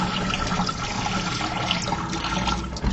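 Cloudy aquarium rinse water poured from a container down a sink drain, making a steady splashing, gurgling rush that runs throughout.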